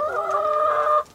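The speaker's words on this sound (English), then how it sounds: "It's they're quite happy chickens, as you can see." A chicken in an off-grid backyard coop gives a single drawn-out, tonal call lasting about a second, clear and close, with no talk.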